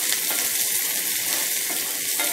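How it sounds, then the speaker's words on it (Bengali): Chopped onion and cumin seeds frying in hot oil while being stirred, a dense, steady hissing sizzle filling the whole moment at close range, with no voices. "পেঁয়াজটা একটু তেলে রাখা হয়েছে, তো এখন একটু নেড়ে দেওয়া হচ্ছে।"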